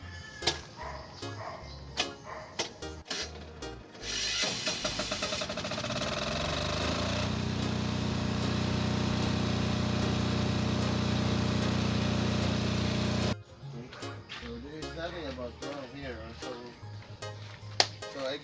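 A 6 kVA diesel generator starts up with a rising rattle and then runs loud and steady with a low throbbing drone for several seconds before cutting off, with someone talking before and after.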